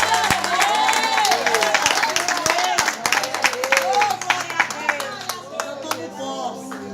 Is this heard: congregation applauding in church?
yes